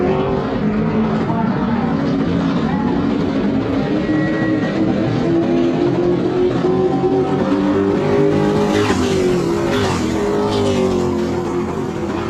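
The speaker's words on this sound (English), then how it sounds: "Bill Shea hit the throttle, got out of shape." A race car at New Smyrna howls at full throttle and gets out of shape, steady loud engine roar with shifting pitch and a squealing tire streak, joined by a commentator talking over the noise.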